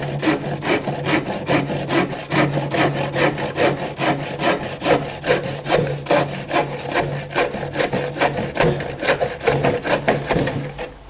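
Handsaw cutting NuWood skirting board, steady rhythmic back-and-forth strokes rasping close and loud, about four strokes per second across the whole clip with no talk.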